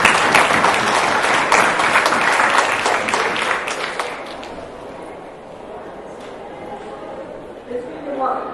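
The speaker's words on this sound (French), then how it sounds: "On peut applaudir déjà maintenant." A conference audience breaks into loud clapping that fades away after about four seconds, leaving a quiet room before a voice begins speaking.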